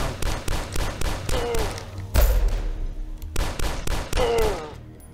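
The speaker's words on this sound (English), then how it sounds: "I thought that was a turret. There's actually some dudes up there firing it." Mounted turret gunfire in the game DUSK hammers out in repeated rapid bursts with a heavy boom in the middle, loud and close, with a player speaking between volleys.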